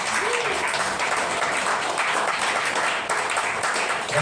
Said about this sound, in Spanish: Que un aplauso al Señor.